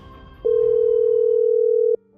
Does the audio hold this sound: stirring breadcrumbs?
no